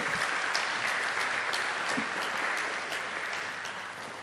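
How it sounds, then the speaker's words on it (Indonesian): An audience claps after a finance talk at UKDW in Yogyakarta, a dense, sustained round of applause that slowly fades over several seconds, with no speech over it. "Kita beri aplaus Bapak Ibu."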